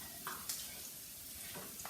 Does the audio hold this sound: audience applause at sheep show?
no